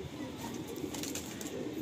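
Madrasi pigeons in a loft in Howrah, giving soft low cooing and faint rustling over a steady ambient background, without talking.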